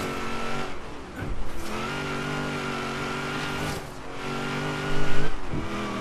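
A race car engine roars in Forza Horizon 3 during a rainforest sprint, holding a steady high-pitched drone that dips briefly at gear changes and climbs again, loud and close with no talk.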